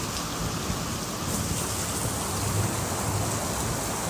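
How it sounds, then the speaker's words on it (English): Heavy rain pouring down outdoors in Oklahoma, a dense, loud, unbroken hiss of drops with a low rumble underneath, steady throughout. "We needed this rain."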